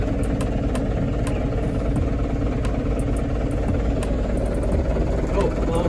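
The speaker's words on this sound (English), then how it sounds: "now that the engine's warmed up and happy" An old bus engine runs steadily while warming up, a loud, continuous low rumble with some faint ticking on top.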